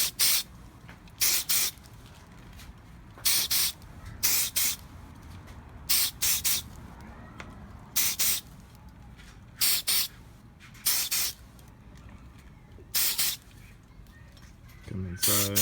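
Activator is sprayed onto a glue bead on a clamped subwoofer enclosure build for a Jeep in a series of short, sharp hissing bursts, often in pairs, with quiet gaps between.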